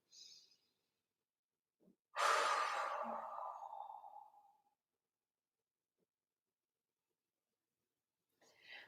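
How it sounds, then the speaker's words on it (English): A deep belly breath during core training for road cyclists: one long, slow exhale of about two and a half seconds, close and soft, with faint breath noises just before and at the very end. "Some big, deep belly breathing."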